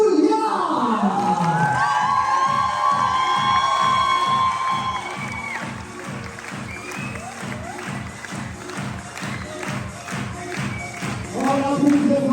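A beach resort audience cheers, whoops and shouts for a performer, with children's voices rising above a rhythmic pulsing music beat, and applause mixed in underneath the crowd noise.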